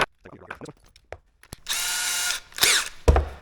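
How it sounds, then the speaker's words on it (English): A power drill removing screws from an Arrma Typhon Grom RC car's differentials whirs in a steady run, pauses, then spins again in short bursts, with clicks and clunks of handling before it starts. "I'm gonna get my drill out here"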